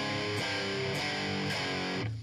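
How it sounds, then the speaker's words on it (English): An electric guitar played through a crunchy distortion effect rings out in several loud, sustained chords, each struck firmly and held, with a fresh attack roughly every half second and a clipped, gritty edge throughout. "That's like a crunchy distortion sound."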